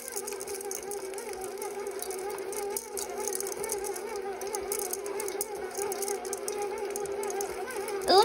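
An electric mixer runs steadily for several seconds while M&M cookie dough is made, a continuous whirring motor drone with a slight wavering pitch, fairly close and unbroken, rising briefly at the very end.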